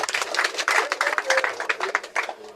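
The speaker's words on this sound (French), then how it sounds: "Si nous pouvons applaudir." An audience claps in brief, uneven applause at a gathering, a short burst of close handclaps rising and thinning out.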